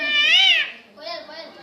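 A voice imitates a peacock call: two high, wavering, drawn-out cries, the first louder and rising, the second shorter and softer, close up.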